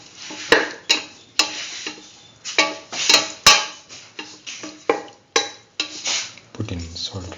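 Salted pumpkin beef rice gets mixed in a pot, a spoon scraping and knocking against the metal in a steady series of close strokes, each with a soft clatter and a brief rustle of grains.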